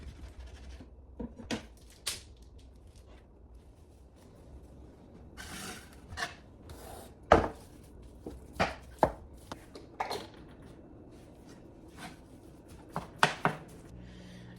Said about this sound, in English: right now we're about to chop off the ground beef